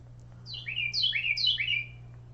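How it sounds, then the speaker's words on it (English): A Carolina wren sings three loud, clear descending whistled phrases in quick succession, alone over a faint steady background hum. "So that's the Carolina wren."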